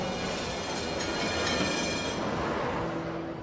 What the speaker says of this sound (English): Covered in cake, Saliya stumbles out and nearly gets hit by a tram.